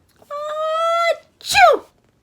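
A voice imitates a big dog's sneeze in a children's story, with a drawn-out rising breath followed by one sharp, loud 'choo' burst, alone and close.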